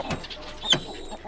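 Chickens cluck in a farming video game, a few short clucks and one sharper squawk near the middle, fairly close, with faint background game ambience.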